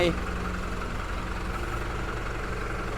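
A New Holland 7056 75 hp tractor idles steadily at close range, a continuous low diesel rumble with an even mechanical beat throughout, and someone talks over it.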